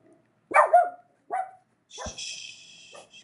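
A dog barks outdoors in a few sharp, separate yips and woofs, fairly close, then a clattering noise follows, with a brief bit of human voice.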